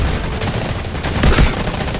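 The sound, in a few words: grenade explosions and gunfire in the video game Delta Force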